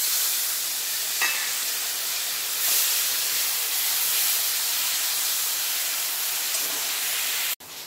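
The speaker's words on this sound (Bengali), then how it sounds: "পাঁচফোড়ন আর শুকনো লঙ্কা দিয়ে দিলাম।" Panch phoron and dried red chillies sizzle in hot oil, giving a loud, steady close-up hiss with a few faint crackles throughout and a sudden drop at the end.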